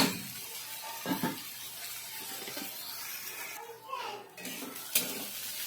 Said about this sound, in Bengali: আমি এটাকে এবার একটু ভালো করে নাড়াচাড়া করে নিচ্ছি